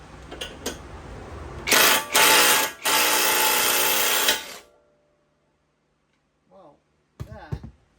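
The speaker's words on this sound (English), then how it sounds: "Let's just use a regular size wrench." A wrench works a bolt on the front strut of a Chrysler 300, giving several short bursts of loud mechanical whirring and clicking close by, then a quiet gap and brief clicks.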